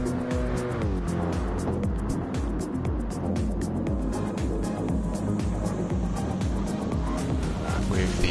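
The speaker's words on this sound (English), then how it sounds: "And Richie also, I think, just leaving the pits in his Mercedes AMG." A Mercedes AMG race car in a wet-weather racing video game drones steadily as it leaves the pits, its engine note rising and shifting through gears, loud and continuous with tire noise throughout.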